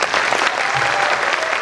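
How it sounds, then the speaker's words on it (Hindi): An audience at a training seminar claps loudly and steadily, a dense, even burst of many hands applauding with no break. "इनके लिए जोरदार तालियां हैं"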